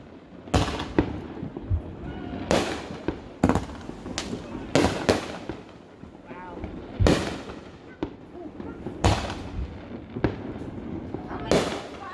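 A fireworks show over Adams Lake bursts with sharp, booming explosions at irregular intervals, a dozen or so loud cracks echoing across the water while people nearby chat between them.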